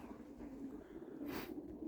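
Pigeons coo softly near their pigeon loft outdoors, faint and low, with a brief rustling burst partway through.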